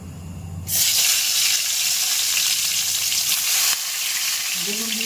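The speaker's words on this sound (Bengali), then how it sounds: "বেগুন দিয়ে দিলাম" Eggplant pieces go into hot oil in a home kitchen and burst into a loud, close sizzle that holds steadily, dipping slightly near the end, with no talk.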